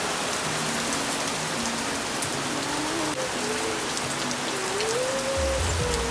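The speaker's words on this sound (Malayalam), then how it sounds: "പുറത്ത് നല്ല മഴയാണ്" Steady, dense rain pours down outdoors, a continuous hiss of drops hitting surfaces with no pauses, fairly loud and close throughout.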